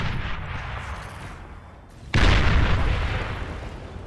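Heavy artillery fire in the real-time strategy game Beyond All Reason during a large 8v8 team battle: a sudden loud boom at about two seconds, followed by sustained rumbling barrage and blasts.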